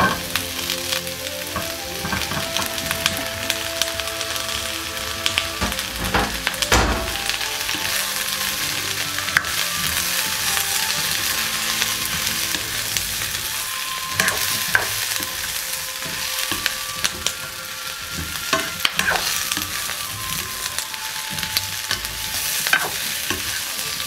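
Chicken hearts sizzle steadily in sesame oil with bell pepper in a pan, a continuous loud frying hiss with occasional stirring scrapes and clicks and no talking.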